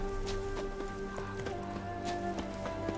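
Steady clip-clop of horse hooves trotting at a brisk, even rhythm in the video game The Witcher 3: Hearts of Stone, with a sustained tonal hum beneath.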